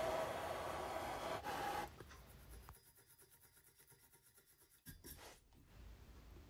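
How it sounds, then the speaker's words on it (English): Wire brush scrubbing paint off a steel exhaust part for a Kawasaki Z1 Millyard Super Six build: a loud, close rasping scrub for about two seconds, then quieter intermittent scraping and rubbing strokes. "remove the paint with my blowtorch and a wire brush"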